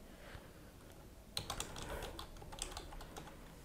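Keys clatter on a computer keyboard in a short burst of close typing, several quick taps with small pauses between, starting partway through and running to the end over a faint background hiss.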